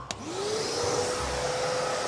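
A vacuum cleaner runs steadily for the whole stretch, a loud even whooshing drone whose motor pitch rises after a sharp click at switch-on, with no talking over it.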